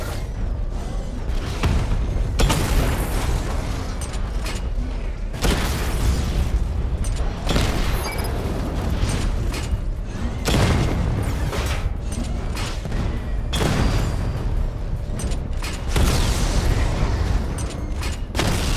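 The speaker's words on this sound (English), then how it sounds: "Charge up missile barrage to level 2 and destroy 4 active targets" Missile barrage explosions from the Batmobile in Batman Arkham Knight come as heavy, booming blasts in several long waves, with dense rumbling and whooshing throughout and brief lulls between the volleys.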